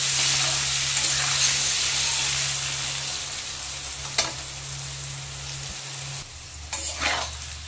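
Potatoes with salt and turmeric fry in mustard oil, a loud, steady close-up sizzle over a constant low hum, broken by a couple of sharp stirring knocks.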